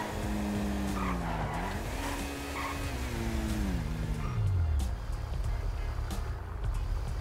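Car tires skid and squeal in GTA 5 with a realism mod, a long, wavering screech over engine noise that rises and falls for several seconds before fading into rumble.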